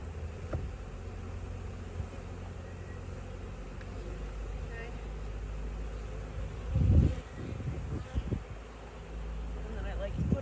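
Continuous low buzzing of many honeybees around an opened hive fills the background, with some rustling and a few brief louder noises partway through.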